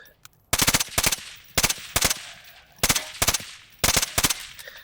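A silenced rapid-fire Volk gun fires in a video game in short bursts of quick, sharp suppressed shots, several bursts separated by brief pauses, loud and close with no talking.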